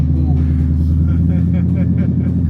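Engine of a signed Shelby GT350 Mustang running, a deep steady rumble with pulsing low tones, close and loud, with voices talking over it.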